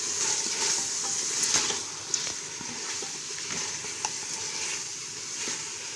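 Mutton and peas curry with crushed red chilli sizzling and frying in a pot, a steady bright hiss with occasional stirring scrapes and small clinks, close and alone without talk.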